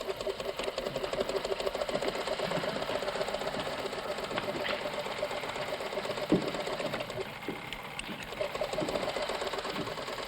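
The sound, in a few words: sewing machine running in a tailor shop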